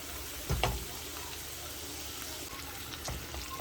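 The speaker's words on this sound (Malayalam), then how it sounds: "ഫ്ലെയിം കുറച്ച് വെക്കാം, എന്നിട്ട് ഇളക്കിക്കൊണ്ടിരിക്കുക" Lemon butter garlic chicken snack frying in a pan over lowered heat: a steady, close sizzle with a few soft stirring clinks and scrapes, and no talking.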